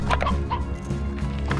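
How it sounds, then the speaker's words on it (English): Chickens in the video game Slime Rancher cluck in a string of quick, choppy bursts, fairly loud and close over a busy low game background. "that's the chicken."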